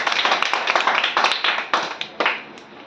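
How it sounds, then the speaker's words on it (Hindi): A classroom of students claps together in a quick, steady rhythm, many hands striking in near-unison beats that run for a few seconds before trailing off into a few final claps. "चलो बजाओ ताली उसके लिए।"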